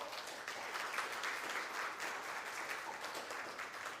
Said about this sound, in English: welcome her with a nice round of applause.